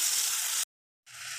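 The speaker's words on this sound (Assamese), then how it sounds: "বিলাহী কেইটুকুৰা মই ভালকৈ সফ্ট হোৱালৈকে মই ভাজি ল'ম" Chopped tomatoes and spices sizzle steadily in a hot pan for an Assamese pork dish, a bright, even hiss that cuts out abruptly to silence before resuming.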